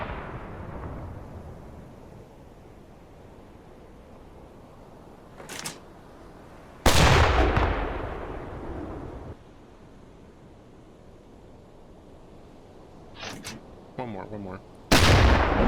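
Submarine deck gun from the UBOAT game firing on a ship: a pair of loud, booming shots several seconds apart, each preceded by a lighter click or crack. A brief voice speaks between the shots.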